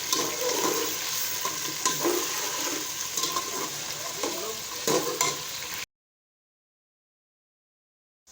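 Meat frying with onions in a hot pan: steady sizzling with occasional stirring scrapes, continuous for several seconds before cutting to silence.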